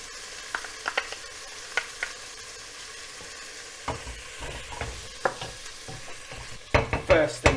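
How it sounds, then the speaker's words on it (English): Chopped garlic, rosemary and bay leaves fry with browned pork in a pot, a soft steady sizzle under scattered spoon scrapes and clatters that grow louder and busier near the end. "we are now going to add the chopped garlic, the rosemary and bay leaves. And we're going to fry that up for another minute"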